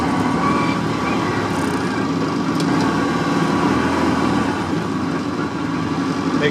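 A 1960 NSU Prinz's small engine runs steadily and loudly close by, with a constant idling drone and no clear rev change.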